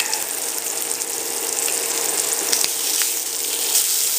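Bacon sizzles steadily in a hot pan, a continuous crackling hiss with scattered louder pops, close and fairly loud, with no voices.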